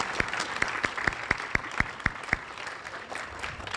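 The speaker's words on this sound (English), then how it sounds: "Another round of applause for Delilah." Applause at a ribbon cutting and dedication for Willow Hall in Stockton, a steady crowd clapping with several sharper, evenly spaced individual claps standing out close by.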